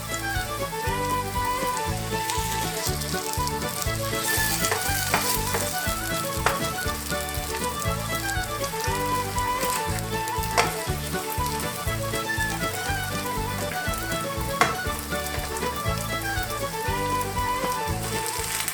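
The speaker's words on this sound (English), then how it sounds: "Add the battered fish fillets, and now the mess starts." Battered fish fillets and fries frying in oil together, a dense, steady crackling sizzle with bursts of spattering popping that carries on unbroken and close throughout, with no talking.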